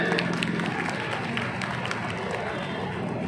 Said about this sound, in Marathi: आपण जोरात टाळ्या वाजवून त्यांचं स्वागत केलं पाहिजे.